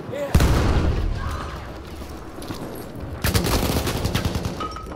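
In Battlefield 1, a potato grenade blast cracks out close and loud, and a second heavy burst follows a few seconds later, with gunfire rattling between them and voices speaking over the combat.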